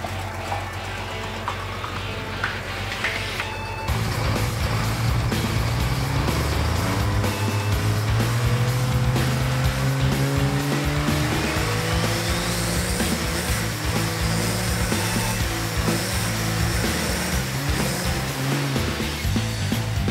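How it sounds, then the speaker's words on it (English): Diesel drag truck in the pits during a turbo spool-up test, a loud steady engine roar climbing into a rising turbo whine and sustained high revs, with no talking. "I just do a spool up test in the pits."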